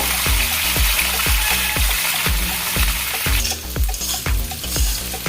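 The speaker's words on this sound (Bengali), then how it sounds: "পেঁয়াজকালি ভাজা হয়ে গিয়েছে" Onion flower stalks sizzle steadily in a hot pan with salt, with a regular rhythm of stirring scrapes and clinks cutting through the continuous frying hiss, close and fairly loud.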